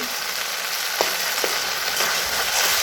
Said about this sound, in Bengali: মশলাটা কষানো হচ্ছে আর একটু কষিয়ে নেবো যতক্ষণ টমেটোটা একটু নরম হয়ে হচ্ছে